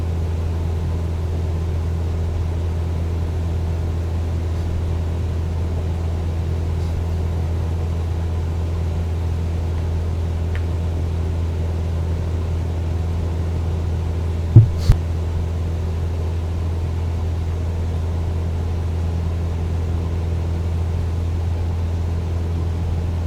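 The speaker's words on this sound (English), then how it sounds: "So this was how to execute a takeoff safely in Cessna 172." Cessna 172 engine droning steadily through a takeoff climb, a constant low propeller-and-engine rumble heard from inside the cabin with no speech over it.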